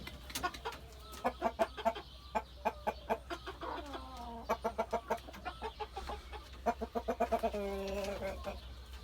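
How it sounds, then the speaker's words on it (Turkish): Free-range village hens cluck repeatedly in a backyard coop, rapid rhythmic clucks in bursts with a rising squawk near the end, close and fairly loud. "Bunlar köy tavuğu, Hint değil."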